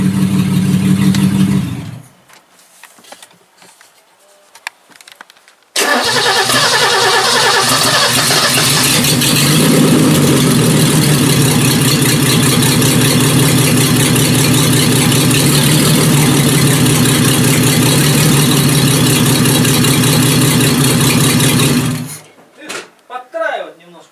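A Mercedes M123 engine fitted into a W126 cranks briefly, falls quiet, then fires and settles into a loud, steady idle close by for about fifteen seconds before shutting off.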